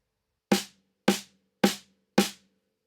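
Four evenly spaced drum hits played as right-hand quarter notes on a drum kit, each a sharp close strike with a short ringing decay, crisp and alone with no voices.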